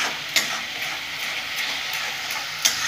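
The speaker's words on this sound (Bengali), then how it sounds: "এগুলো আমি দিয়ে দেবো। ভালো করে এটাতেও কষে নেবো যতক্ষণ পর্যন্ত কাঁচা গন্ধটা দূর হয়।" Ginger and garlic fry in a pan with a steady, close sizzle, while a spoon scrapes and stirs through it in a few sharp strokes.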